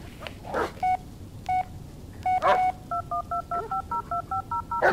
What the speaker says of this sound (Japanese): 電話してみる、奥さんに。